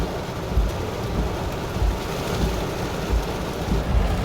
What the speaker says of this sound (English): I'm sorry if the rain is very loud.